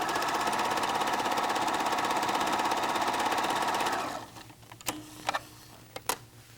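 White Model 9800 sewing machine stitching a waistband in the ditch, a steady loud mechanical whir with rapid needle rhythm for about four seconds, then stopping and leaving a few quiet clicks and knocks.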